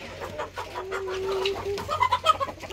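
Hens cluck in a coop with a rooster among them, a close, busy run of soft clucks and short calls rising into louder squawks near the end.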